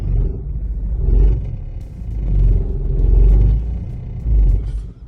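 A car engine runs close up with the clutch pedal held near its top, about to stall, a low rumbling drone that swells and sags in slow, uneven surges, with no voices over it.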